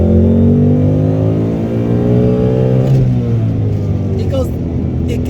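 A 2018 Ford Mustang with an MT82 manual gearbox revs hard toward 5,000 RPM, its engine note climbing in a loud, steady rise and then dropping off as the revs fall, close to the microphone.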